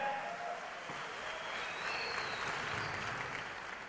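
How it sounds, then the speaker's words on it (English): Steady, sustained applause from a large crowd at a Rotary district conference fills the space, a dense wash of clapping that holds evenly throughout. "Let's give them a big hand."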